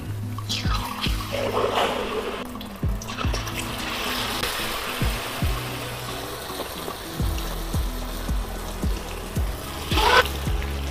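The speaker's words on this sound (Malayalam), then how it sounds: "ഇനി നമുക്ക് ഇതിൽ നിന്ന് ഓരോ ചിക്കൻ എടുത്ത് ഒന്ന് മിക്സ് ആക്കിയതിന് ശേഷം എണ്ണയിലേക്കൊന്ന് ഇട്ട്" Coated chicken pieces dropped into hot oil, a steady sizzling bubble with soft knocks and pops as pieces go in, fairly close and continuous.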